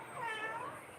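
Cat meowing once, a drawn-out wavering cry at moderate distance, fairly faint but clear with no speech over it.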